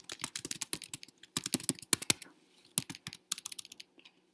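Close, crisp typing on a computer keyboard while entering data in Excel, quick bursts of clicking keystrokes separated by short pauses, with no voices.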